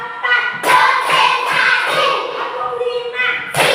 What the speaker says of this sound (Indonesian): Mari kita tepuk untuk siap belajar.